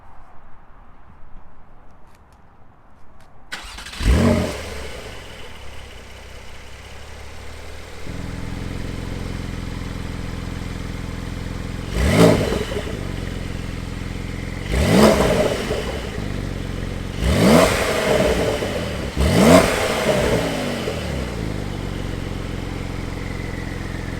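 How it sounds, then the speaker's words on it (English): A 2020 Porsche 911 Carrera S with a turbocharged 3-liter flat-six cranks and fires up loudly, settles into a steady idle, then is revved sharply four times, each rev a short rising roar. "if we start up the car, here with that 3-liter Boxer 6, now turbocharged"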